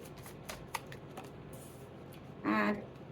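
Tarot cards being shuffled for a reading, a run of soft riffling clicks and taps with a brief louder flurry of card noise near the end, close by with no talking.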